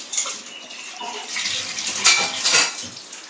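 Rice being swished and rinsed by hand in water in a home kitchen, with wet sloshing and clinking against the pot building in short bursts, close and moderately loud.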